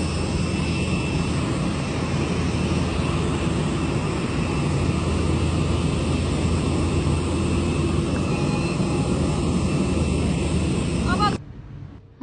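A Himalayan Airlines airliner at the airport gives off a steady, loud broadband engine roar with a wind-like rush, holding constant for about eleven seconds before cutting off abruptly.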